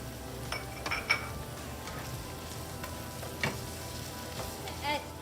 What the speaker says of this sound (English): I'm going to add in the shrimp.